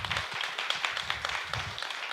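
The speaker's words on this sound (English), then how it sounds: "another round of applause for Mr. Daniel Folley" An audience at a conference claps after a talk: a moderate, somewhat sparse round of applause with distinct individual hand claps, heard from the middle of the room, with no voices over it.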